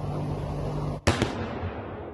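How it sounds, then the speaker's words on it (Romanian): A single loud blast from a nighttime strike in Kharkiv, with a sharp crack and a quick second report echoing out, heard from a distance over a steady low background hum. "explozii au fost auzite în cel puțin 2 sectoare"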